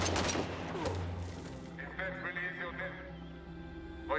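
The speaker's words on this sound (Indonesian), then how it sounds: "Baku tembak semakin sengit." Gunfight in a film with soldiers exchanging fire: bursts of gunshots up front that fade into voices and horse-like sounds, with speech running over the rest.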